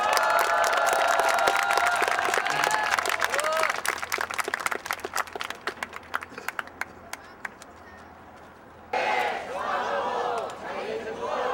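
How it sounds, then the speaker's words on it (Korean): A crowd at a labor rally bursts into sustained applause and cheering, dense clapping that thins into scattered claps before a fresh swell of shouting voices. "우리 동지들께 큰 박수와 함성 부탁드리겠습니다"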